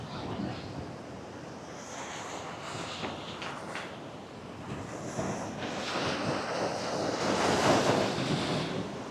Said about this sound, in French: il y a quand même de la belle vague